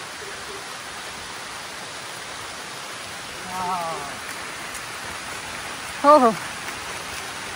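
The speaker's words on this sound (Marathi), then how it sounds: "आणि अशा प्रकारे पाऊस सुरू झालेला आहे." Steady rain beginning to fall in a forest near Badlapur, a soft continuous hiss of drops on leaves throughout, with a couple of brief voices calling out in the middle and near the end.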